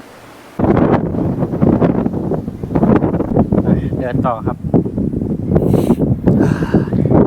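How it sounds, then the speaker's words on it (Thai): Strong wind buffets the microphone on an open grassland at Qingtiangang in Taiwan, a loud rumbling roar that runs almost without break while someone talks over it. "ลมแรง"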